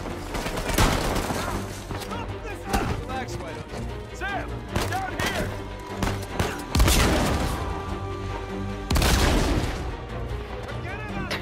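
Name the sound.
gunfire in Uncharted 4 video game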